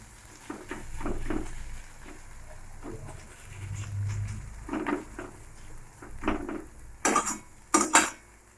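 Food stirred in a pan over a gas stove, with scattered scraping and clinking of a utensil against the metal in irregular bursts, a soft low hum underneath and a few sharper clanks near the end.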